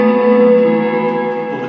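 An Electro Harmonix Cathedral reverb pedal set to shimmer with the blend fully up gives a sustained, bright wash of layered guitar tones, a single ringing swell that holds steady and slowly fades, alone and loud.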